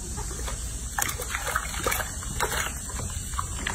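Water splashing and trickling as a baby monkey's feet are washed, soft irregular splatters and drips close by, with faint background noise and no clear speech.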